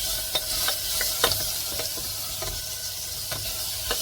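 Tomato puree sautéing with onion and garlic in a pressure cooker pot, a steady close sizzle with scraping stirs and light clicks of a spoon, no voices.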